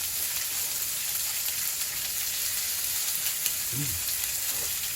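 Food sizzles steadily as it pan-grills until golden and caramelized, a loud continuous frying hiss that runs unbroken, with a brief low murmur near the end.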